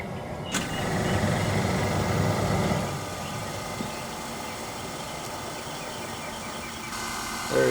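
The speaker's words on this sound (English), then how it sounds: "We can hear the compressor working. So the compressor is turning on." A Tesla's air conditioning compressor kicks on, giving a steady mid-low mechanical hum with broadband whir that swells for a few seconds then settles into a quieter continuous drone, close by and with no talking.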